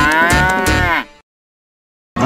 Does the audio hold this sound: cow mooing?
yes